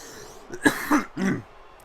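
Three rough, throaty coughs in quick succession, close and fairly loud, followed by quiet.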